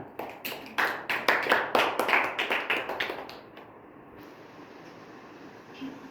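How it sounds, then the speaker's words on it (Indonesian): Classroom applause breaks out after a student answers during an Indonesian lesson, a burst of many hands clapping for about three seconds before fading into quiet room tone. "Berikan aplaus kepada temannya."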